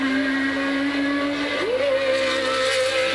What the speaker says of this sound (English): I hear Alan Jones's engine stuttering.